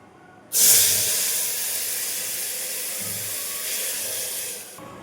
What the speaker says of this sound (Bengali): তারপরে দিয়ে দেবো এই জলটা যেটা করে রেখেছিলাম আমি